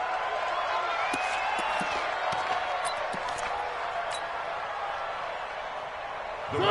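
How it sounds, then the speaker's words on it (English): A football stadium crowd roars as a team sets up for a two-point conversion after a late touchdown, a broad sustained wash of cheering with scattered claps and whoops, heard from a distance. "Listen to this crowd now."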